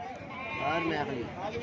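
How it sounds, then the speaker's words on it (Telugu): Large goats at the weekly Gudur livestock market bleat repeatedly and overlap in a dense, continuous chorus, mixed with people talking nearby. "పెద్ద సైజు మేకలు ఇవి"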